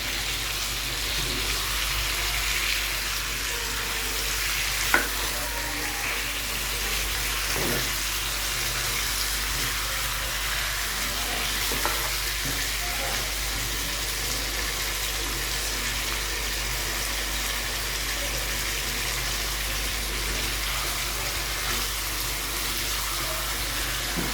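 Fresh-ground spice paste stir-fried with chicken in a pan: a continuous even sizzling hiss throughout, with a few faint clicks of stirring.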